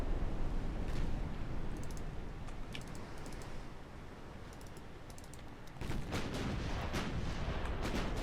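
Naval gunfire in Ultimate Admirals: Dreadnoughts during a battle with tenders, a steady rumbling barrage with scattered sharp cracks, growing louder and denser in the last few seconds, with no voices.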